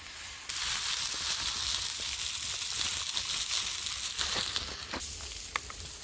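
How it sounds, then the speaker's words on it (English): Meat sizzles steadily in a VDV mess kit canteen pot over a campfire, browning for Polish bigos hunter's stew, with a close, continuous frying crackle and occasional sharper pops, no voices. "This is just sort of browning to get the flavor, to get that sort of crisp flavor going on."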